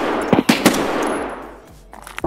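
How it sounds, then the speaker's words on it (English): A few sharp gunshots from weapons in the shooter game Escape from Tarkov ring out in quick succession at the start, followed by quieter ambient noise and a couple of softer pops near the end. "I can't see where they're shooting from."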